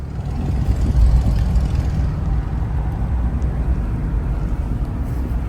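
GMC Sierra pickup towing a loaded 16-foot landscape trailer, a steady low road rumble and drone that holds level and close throughout with no talk.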